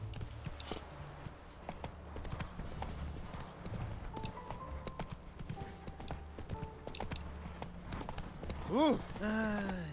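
Hooves clip-clop steadily as a horse is ridden in The Witcher 3, a moderate even rhythm under in-game chatter and a voice, with a short whinny near the end.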